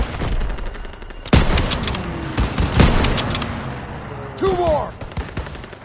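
Gunfire and machine gun bursts in the video game Call of Duty: WWII, loud rattling volleys with heavy individual shots amid battlefield noise, while a soldier's voice shouts over the fighting.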